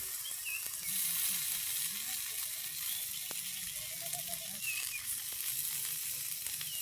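Eggplant slices frying in hot oil in a pan, a continuous close sizzle with crackling pops throughout and no speech.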